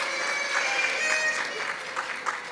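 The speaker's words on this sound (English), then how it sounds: "another little round of applause for her" Light applause from an audience at a family conference celebration, a steady patter of clapping held at moderate level throughout.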